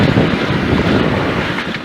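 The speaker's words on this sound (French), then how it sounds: "t'entends vraiment que le bruit du vent." Heavy wind noise roars over the microphone while driving an open 2024 Can-Am Maverick off-road vehicle, a loud, steady rushing with no talk.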